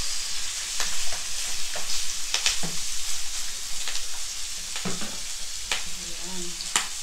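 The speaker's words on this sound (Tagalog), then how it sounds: "haluin po ng haluin hanggang mag-reduce yung dugo" Dinuguan, a blood stew, frying in a pan over low heat while being stirred again and again, a steady bright sizzle broken by scattered close scrapes and knocks of the spoon against the pan, with no speech.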